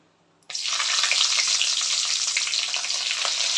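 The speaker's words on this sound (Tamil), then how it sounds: "பெரிய வெங்காயம் சின்னதாக கட் பண்ணி சேர்த்துருக்கேன்" Finely chopped large onions hit a hot pan and burst into a steady, bright sizzle that continues evenly, close and alone.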